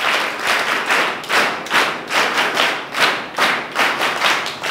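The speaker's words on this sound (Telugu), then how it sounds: "సార్కు ప్రత్యేకంగా ధన్యవాదాలు చప్పట్ల ద్వారా." Students and staff at a yoga day awareness programme give a dense burst of applause, many hands clapping in rippling surges, loud and close for several seconds with no speech over it.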